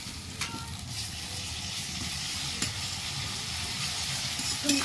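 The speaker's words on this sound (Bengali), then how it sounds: "রসুনটা দিয়ে দিয়েছি, ভালো করে একটু নেড়ে নিচ্ছি।" Garlic frying and being stirred in a pan with onion and chili, a soft continuous sizzle with occasional scraping taps, moderately close and unbroken by speech.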